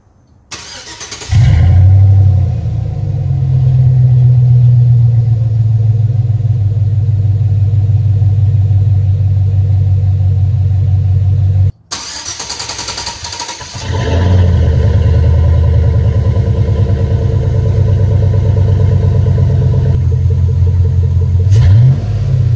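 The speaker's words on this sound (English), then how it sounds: "So I'm gonna put you guys where the exhaust is and see if you guys can tell the difference in the exhaust note." A Chevrolet Silverado pickup fitted with a cold air intake starts up twice near the exhaust, each time settling into a loud, steady idle rumble, with a brief gap between the two runs.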